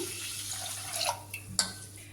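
Water poured from a vessel onto washed lentils and rice with salt in a cooking pot, a soft splashing trickle with a couple of brief louder splashes near the end, close and quiet, no voices.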